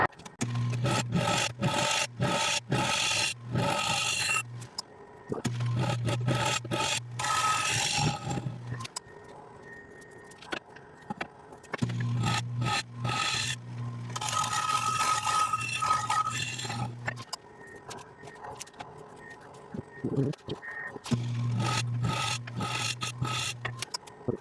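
A scraper rasps against a spinning wood burl on a lathe in repeated passes, loud gritty scraping with short pauses between bursts and a steady motor hum underneath.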